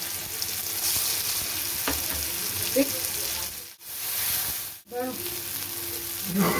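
Black cumin seeds and mustard paste sizzle in hot oil for a mustard boal fish curry, a close, steady frying hiss with soft stirring clinks, briefly cut by two short silences before the sizzle resumes.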